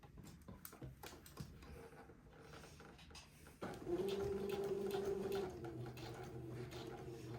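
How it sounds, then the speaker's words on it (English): A sewing machine runs a quarter-inch seam along a garment edge, starting partway through with a steady, humming motor drone and rapid needle clatter after quieter handling noises. "I'm going to start sewing in a quarter inch seam allowance all along the edge of the garment"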